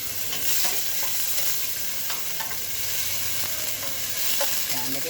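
Garlic frying in a little cooking oil, a steady soft sizzle with light stirring scrapes throughout, close and continuous with no talking.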